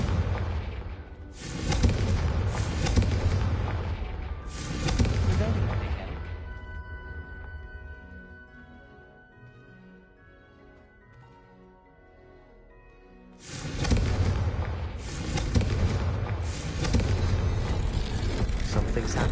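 Confringo blasting spell in Hogwarts Legacy bursts in loud booming explosions, several heavy blasts early, a quieter stretch with musical tones, then another run of explosive impacts.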